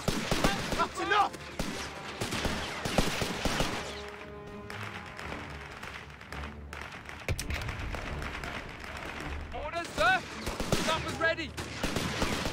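Gunfire in Company of Heroes 3, dense overlapping rifle and machine-gun shots crackling in volleys, a brief quieter pause midway, then renewed firing with ringing metallic tones and voices calling out over the battle.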